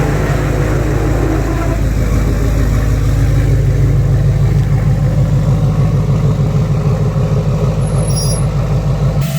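A Duramax diesel pickup truck idles while warming up on a cold day, giving a loud, close, steady low throbbing clatter that stays constant throughout with no voices.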